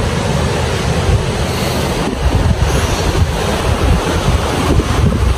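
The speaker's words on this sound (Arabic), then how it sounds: "الهواء كلش قوي اليوم" Strong wind buffeting the microphone at Lake Vilao, a steady loud roar with gusty low rumbles and rushing noise throughout, no voices.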